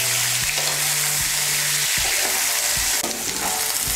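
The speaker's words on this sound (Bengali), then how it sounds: "এমনিতে আমি এঁচড়টা ভেজে নেব।" Boiled young jackfruit fries in a pan of oil with a loud, continuous sizzle and occasional stirring clatter, close and steady with no talking.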